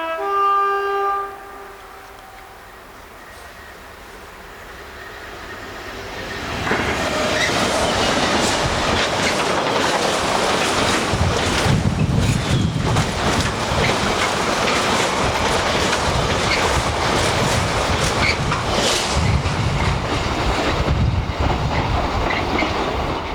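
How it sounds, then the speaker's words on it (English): Trains racing through a station platform without stopping, a loud, building rush of rolling wheels and rattling wagons with rhythmic clickety-clack that continues steadily, following a brief electronic platform chime. "a couple of videos of trains whipping through that station"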